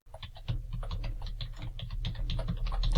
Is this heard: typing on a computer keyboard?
yes